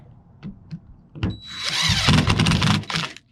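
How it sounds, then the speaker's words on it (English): A step drill bit cuts side holes in a metal hitch pod, with a few short taps and trigger bursts before a loud grinding whir rises and holds for about a second and a half, then winds down. "Before installing the light, we're going to finish drilling these side holes"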